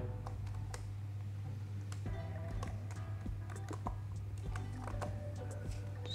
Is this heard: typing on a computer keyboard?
yes